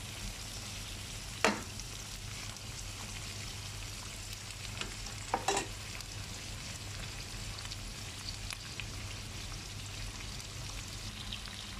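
A large long green chili and turmeric fry in a pan with a steady, close sizzle that runs throughout. A few sharper clicks and scrapes of stirring stand out near the start and midway.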